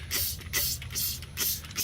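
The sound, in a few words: bleach cleaner sprayed onto golf cart vinyl seats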